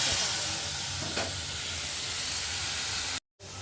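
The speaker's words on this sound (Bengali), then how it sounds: "সর্ষে ফোড়ন দিলাম" Mustard seeds spitting and sizzling in hot oil in a pan for Bengali tempering, after fish was fried; a steady, loud crackling hiss that runs almost unbroken, then cuts out for a moment near the end before resuming.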